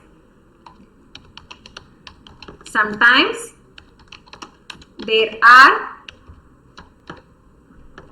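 Soft clicks of computer keyboard typing scattered throughout, with a person speaking briefly twice in between.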